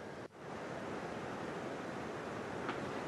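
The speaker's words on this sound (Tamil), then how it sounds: "ஒகேனக்கல் அருவியிலும் தண்ணீர் ஆர்ப்பரித்து கொட்டுகிறது" Broad, continuous roar of water pouring down Hogenakkal waterfall, a steady rushing wash throughout, with a brief dip near the start and a faint click later.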